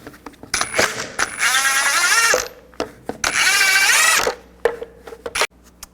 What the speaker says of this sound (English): use a 22mm socket, and just carefully loosen these up